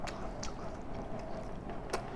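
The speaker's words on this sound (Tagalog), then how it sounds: "Nguya lang ako." Someone chews food close to the microphone, soft wet munching with a few crisp bites standing out against low background noise.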